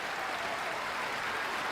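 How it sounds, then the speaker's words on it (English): Dense, steady applause from a crowd, a continuous wash of clapping with no pauses or voices. "All three of my applause samples plus 35 more"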